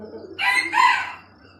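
A chicken crows nearby, loud and close: one strained, two-part call lasting about a second, with no other sound around it.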